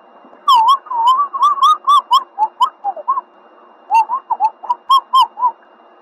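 A person whistles a quick run of bright, wavering notes in two bursts, clear, loud and close, with a brief pause between phrases and no talking.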